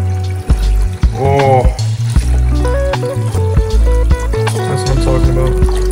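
Cold water runs and trickles into a basin while black caviar is being prepared, a continuous splashing flow under a voice speaking close by.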